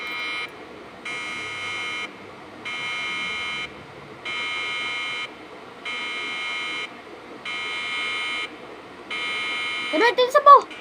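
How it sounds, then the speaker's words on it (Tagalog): A Roblox game alarm blares in repeated, evenly spaced buzzing pulses, about seven on-off cycles, before a voice briefly cuts in at the end. "Alarm is going off."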